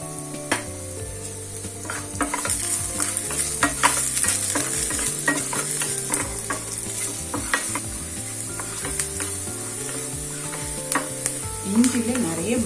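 Food sizzling and frying in hot oil in a pan while a spoon stirs and scrapes, with a steady hiss under repeated metallic clinks for a South Indian pirandai dish, no talk over it.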